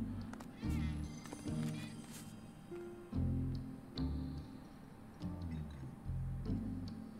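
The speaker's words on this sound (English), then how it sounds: "Naughty cat making a noise, gonna give me away." A cat meows repeatedly in Final Fantasy VII Remake, a series of short, close game meows in an irregular rhythm over faint background ambience.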